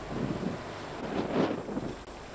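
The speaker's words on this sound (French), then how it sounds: "Alors d'ici, il y a un petit peu de vent." Wind buffets the microphone aboard the tugboat L'utile A672 during a 1997 family outing at sea. It is a steady, fairly loud rushing roar with a few stronger gusts, and no one speaks.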